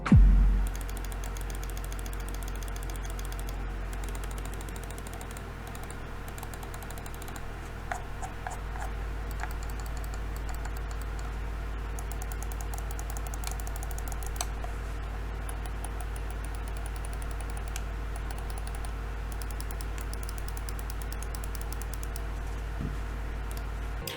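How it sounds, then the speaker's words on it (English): Dozens of sharp, light clicks from SteelSeries Rival 3 gaming mouse buttons tap out in irregular bursts over a steady low hum, close-up and crisp, with no talking. "roll a sound test so you can hear all these buttons for yourself"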